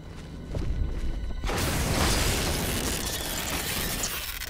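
Shotgun blasts aimed at the Black Tiger giant spider in a Resident Evil game: a sudden loud booming burst that swells into sustained, roaring noise, following a quieter stretch of game ambience.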